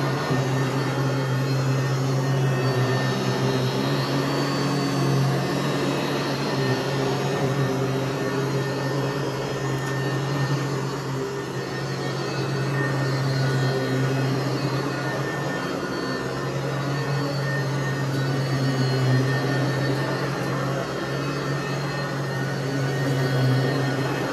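A Sanitaire SC888 upright vacuum cleaner running over carpet, a steady close motor whine and airflow hum that continues unbroken for the whole stretch, with no talking.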